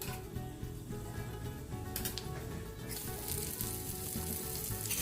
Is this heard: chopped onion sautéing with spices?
yes